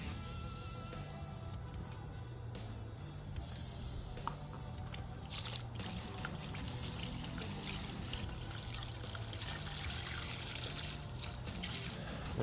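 Cleaning fluid pours steadily into a shallow tray for soaking engine pistons, a continuous trickling, splashing stream lasting throughout, close by and moderately loud.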